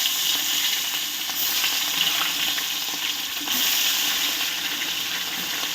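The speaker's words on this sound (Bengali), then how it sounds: "এবারে আমি একটা একটা করে মাছগুলো ছেড়ে দেবো।" Fish sizzle in hot mustard oil in a wok, a steady loud crackling fry that holds continuously with slight surges, no voices over it.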